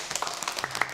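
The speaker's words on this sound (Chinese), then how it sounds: "咱们再次掌声欢迎" A small group gives short, light applause to welcome a dance teacher at a student dance rehearsal, a brief, faint patter of scattered claps.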